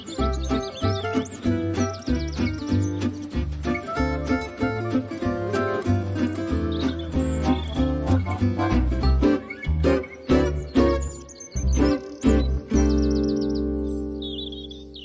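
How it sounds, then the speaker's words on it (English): Garden tree full of birds feeding on aphids among new leaves, a dense, continuous mix of chirps and tweets with busy rhythmic layers throughout. "And you can hear sometimes the whole tree is a twitter."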